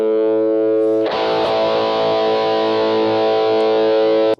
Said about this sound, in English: And then we go into distortion.